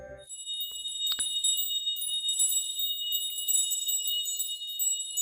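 Bells in the video game Honkai Impact 3rd chime softly from a distance, giving sustained high, ringing tones with a faint jingling shimmer and no voices.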